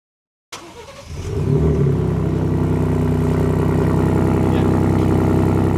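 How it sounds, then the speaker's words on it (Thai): A Ford Raptor pickup's 3.0 V6 petrol engine starts after a moment of silence and settles into a loud, steady, throaty rumble from the exhaust, with light revving, close to the listener. "เสียงท่อของแรปเปอร์ ตัว V6 เบนซินคันนี้นะครับ"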